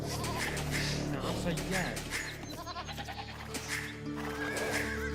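Sheep bleating in Age of Empires II, several short bleats over game sounds and someone speaking.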